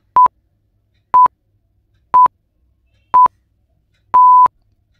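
Countdown timer for a quiz question: five short, loud electronic beeps about a second apart, the last one held longer, alone with no voices.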